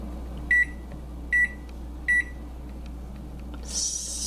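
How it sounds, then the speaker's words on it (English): Three short electronic beeps over the low steady hum of a microwave cooking a Stouffer's frozen baked chicken meal, followed by a louder whirring surge near the end. "While the microwave is running"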